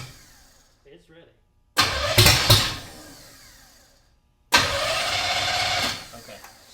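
A hot rod 327 Chevy V8 cranks and fires in two loud bursts, the first catching briefly and fading, the second settling into a rough run, with people talking around it.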